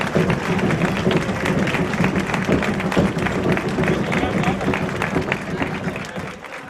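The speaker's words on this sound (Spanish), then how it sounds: "pido para todos un fuerte aplauso" A strong round of audience applause for a proclamation speech at the Casarabonela historical reenactment, dense and steady with some voices mixed in, then fading off at the very end.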